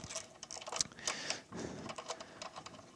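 Bolts being removed from the battery junction board of a Honda IMA hybrid's high-voltage battery, a run of quick, close clicking and ratcheting taps with small metallic rattles, fairly quiet and steady.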